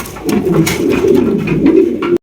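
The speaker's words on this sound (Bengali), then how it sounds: "দেখেন কিভাবে জেট গলা কষতেছে" A jet pigeon coos and strains its throat in a steady, close, fairly loud run of throaty rolling coos lasting about two seconds before cutting off.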